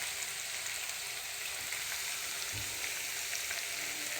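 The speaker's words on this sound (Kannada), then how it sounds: "ಫಸ್ಟ್ ಮಸಾಲನ ಕರೆಕ್ಟ್ ಆಯಿಲಡ್ ಫ್ರೈ ಮಾಡ್ತಿ" Masala frying in oil in a pan for a king fish masala fry, a steady, close, broadband sizzle that holds level throughout with no talk.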